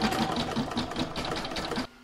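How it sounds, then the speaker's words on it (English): An embroidery sewing machine stitching a placemat design hums with a fast, steady needle rhythm, close and even, stopping abruptly near the end. "I'm going to put that back in my machine and stitch round number 9 to join them."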